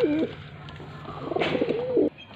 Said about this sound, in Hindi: सारे परफेक्ट कबूतर हैं माशाल्लाह